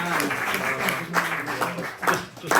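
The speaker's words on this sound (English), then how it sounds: "give a big round of applause to Niall McGuirk" Audience applause for Niall McGuirk at an in-conversation event at the Seamus Ennis Centre in Naul: a steady mass of clapping that swells in bursts and carries on for a few seconds, close and full, with no talk.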